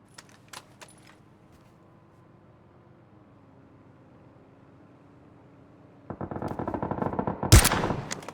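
Automatic rifle fire from a crouching player in PUBG on PC, a loud rapid burst that starts abruptly after near silence and builds into a sharp crack near the end, with faint clicks earlier.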